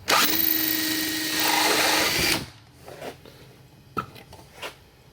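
A power trimmer whirs steadily for about two seconds as it trims the end of a 10mm bullet jacket for swaging, then stops, followed by a few light metallic clicks and handling taps.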